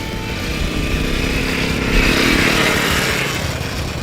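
A Honda CT110 motorcycle engine runs close by, a loud, steady, buzzing drone that holds an even level with no pauses.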